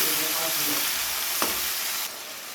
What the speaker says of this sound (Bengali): চিংড়ি মাছগুলো একটু হালকা ভাজা ভাজা করে নিয়েছি।